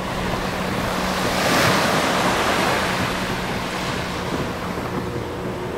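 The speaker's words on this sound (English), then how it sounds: "We have our own private beach," Waves on a Gulf beach, a continuous broad wash of surf swelling and easing, close and loud with wind noise over the microphone.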